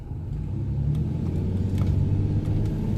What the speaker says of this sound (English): the bumpiness of my truck here